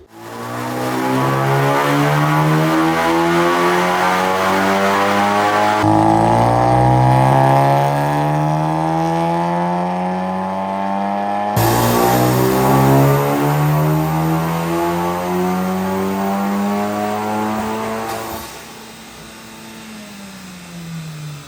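A turbocharged car engine with an XL turbo and a failing fuel pump revs hard on a dyno, rising harmonic pitch climbing steadily through repeated loud pulls, each ending in a drop before the next sweep begins.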